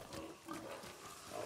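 Pigs grunt in the video game Ghost of Tsushima, a steady low snuffling and grunting that runs through the whole moment at moderate, fairly quiet loudness, heard alone without talk.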